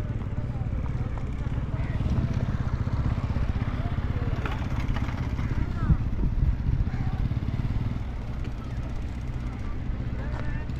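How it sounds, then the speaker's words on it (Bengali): Fishing trawlers working at sea off the Sitakunda and Bansbaria beach coast near Chattogram: a steady, loud low engine drone rumbles throughout, swelling slightly mid-way before easing off. "ওই মাছ ধরার ট্রলারগুলো মাছ মারতেছে"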